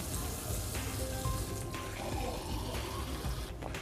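Tap water pours steadily into a glass for a few seconds, a continuous splashing rush with slight changes as the glass fills.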